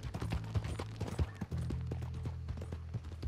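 Hooves of a horse in the Red Dead Redemption 2 video game clip-clop in a steady walking rhythm, close and fairly quiet over a low ambient hum.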